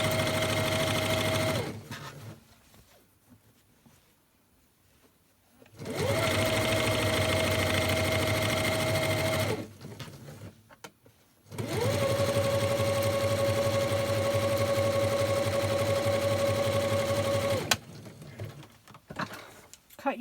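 Sewing machine stitching along a fabric edge for a lunch bag, three sustained runs of steady motor hum and rapid needle rhythm separated by quiet pauses.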